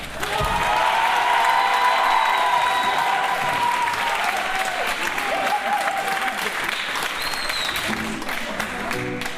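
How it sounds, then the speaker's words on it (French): Audience at a closing show applauding loudly, a dense continuous wash of clapping lasting the whole stretch, with a faint voice and scattered cheers mixed in under it. "On les applaudit bien fort."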